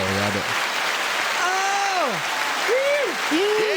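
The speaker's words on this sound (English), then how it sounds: "and the crowd goes, Yeah." A studio crowd applause effect hisses steadily underneath a podcast intro, a broad wash of clapping and cheering at moderate level while voices talk and sing over it.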